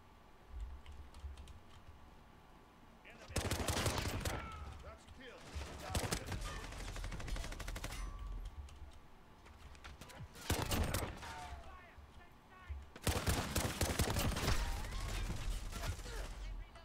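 Light machine gun fire in a video game comes in several long, loud automatic bursts separated by pauses. Keyboard typing and a voice run under the shots.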